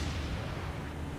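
Naval gun fire from warships in the War on the Sea video game, a heavy deep boom rolling continuously through the short moment with no talk.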